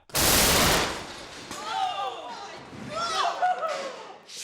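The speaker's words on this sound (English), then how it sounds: "The cannon launched the hook all right." A cannon fires a 10-pound solid steel hook from a table in one loud, sharp blast, which quickly fades as people start talking.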